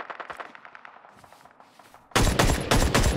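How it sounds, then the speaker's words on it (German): Gunfire in the shooter game Ring of Elysium: a rapid series of faint distant shots, then louder, closer bursts of repeated gunfire near the end. "Also den Schuss, der kommt aus der Richtung."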